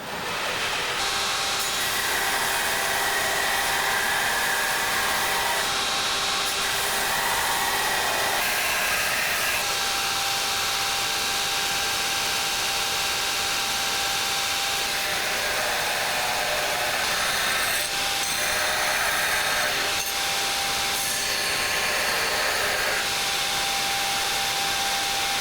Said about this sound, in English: And now I'll start belt grinding.